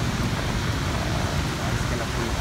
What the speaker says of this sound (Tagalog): Napakalakas po ng ulan.